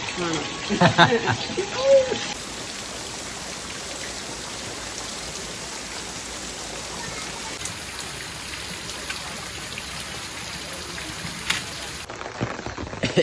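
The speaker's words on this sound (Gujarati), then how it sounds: "ચલો વરસાદ આવ્યો" Steady morning rain hisses evenly over farm fields for a long stretch, with brief voices near the start and a few faint knocks in the background.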